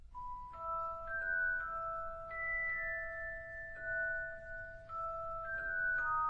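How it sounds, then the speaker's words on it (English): Celesta notes chime in a slow melodic sequence of bright, sustained bell-like tones, each struck note ringing on and overlapping the next, clear and alone over a faint background hiss. "it's basically a piano that instead of hitting strings, it hits bells or like little chimes within the piano"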